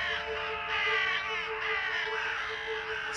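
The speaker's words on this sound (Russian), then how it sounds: "Как вдруг послышалось воронье карканье." Several crows caw in a series of harsh, drawn-out calls, moderately near and fairly clear over a quiet background.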